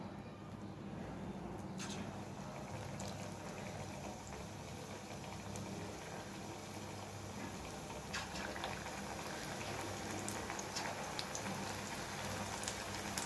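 Palak spinach bondas deep-fry in hot oil, a steady, faint crackling sizzle that continues without a break, with occasional sharper pops.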